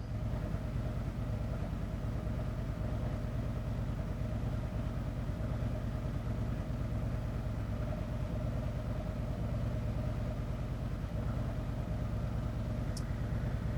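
A Harley-Davidson motorcycle engine idles during a diagnostic test, giving a steady, fairly quiet low rumble that holds even throughout with no talking.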